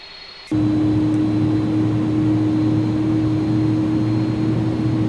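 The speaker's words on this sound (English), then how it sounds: "Gear coming down. I love how slow the gear comes down." An Airbus A300-600 lowers its landing gear in the X-Plane 12 flight simulator: after a brief quiet moment, a loud, steady mechanical hum with a sustained whine sets in and holds unchanged to the end.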